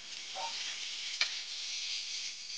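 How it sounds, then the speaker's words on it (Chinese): Aromatics stir-fry in hot peanut oil in a wok, giving a steady, close hiss and sizzle with a single sharp tap of a utensil near the middle. "再去把锅烧热，加入花生油了以后，把备好的料头放到里面煸炒。"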